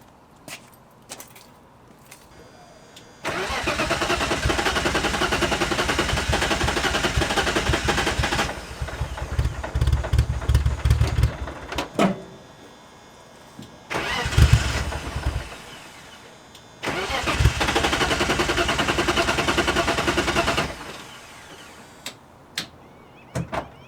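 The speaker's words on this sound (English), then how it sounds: "So I'm honestly gonna try starting this thing, see if it still starts." A 1999 BMW E36 323is engine cranks in long grinding bursts of starter whir, with brief sputtering catches and pauses between attempts, loud and close, then quiet clicks and a door thud.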